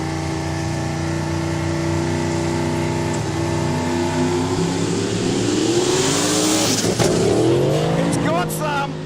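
A drag race car at a no-prep street drag event at Kooralbyn Valley, its engine droning steadily and then blipping on and off the throttle in rising, falling revs, loud and near, with people talking over it.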